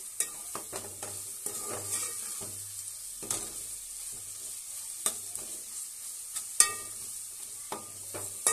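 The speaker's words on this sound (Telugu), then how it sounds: "అలా ఫ్రై చేసేసుకోండి అలా ఫ్రై అయిపోయాక అల్లం వెల్లుల్లి పేస్ట్ పచ్చిమిర్చి పేస్ట్ మంచిగా ఫ్రై అయిపోవాలి" Ginger-garlic paste and green chili paste fry in a pan for a chicken pulao, a quiet, steady sizzle broken by frequent light stirring taps and scrapes, close up and without talking.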